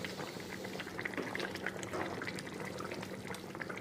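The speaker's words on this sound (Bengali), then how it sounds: "তেল ভেসে গেছে, এখন আমি জল দিয়ে দিব" Water poured into a hot pan of fried eggplant and fish makes a quiet, bubbling, liquid rush with light spatter, fairly soft and without speech.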